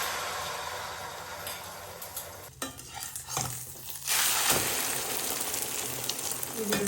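An egg frying in hot oil, a bright close sizzle with stirring scrapes and a few utensil clinks against the pan, swelling louder partway through.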